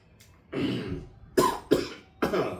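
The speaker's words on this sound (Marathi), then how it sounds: "जरा थोडा त्रास आहे खोकल्याजवळ" Coughing from a person during a spiritual discourse, one longer rough cough followed by three sharp close coughs in quick succession, with no speech.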